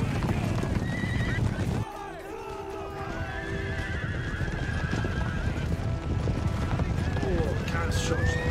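Horses neigh and whinny repeatedly over steady clip-clopping hooves and a dense battle din in Empire: Total War, with a voice talking throughout.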